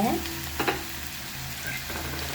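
Curry leaves frying in oil in a pan for a mutton curry, giving a steady close sizzle with a brief stirring scrape near the start and no voices.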